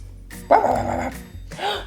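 A person's voice imitates a police dog barking, giving a few loud, close, separate woofs with short gaps between them.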